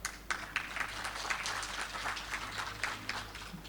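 Audience at a women's awards ceremony applauding, a sustained patter of many hands clapping at moderate distance, steady and fairly faint, without talk over it.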